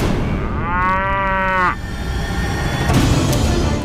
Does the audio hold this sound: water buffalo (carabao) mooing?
yes